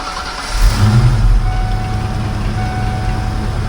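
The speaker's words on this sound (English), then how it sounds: "let's go ahead and fire this 5-liter up" A 1992 Ford Mustang LX Foxbody with a 5-liter V8 at 103,000 miles, turning over and catching into a loud, steady idle with a low rumble close by.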